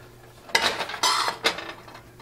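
A spoon scraping and stirring through thickening sauce in a metal pot, with three clear scraping strokes close by, separated by short pauses.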